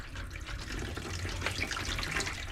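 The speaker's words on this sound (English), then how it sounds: "We'll fill it up with some lukewarm water." Lukewarm water runs into a container used for rinsing brass cartridge cases after tumbling, a steady close rushing and splashing pour from a tap.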